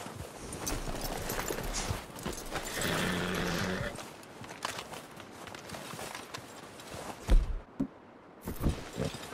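Horse hooves clip-clop at a walking pace in a video game, amid rustling and movement, with a louder thump near the end.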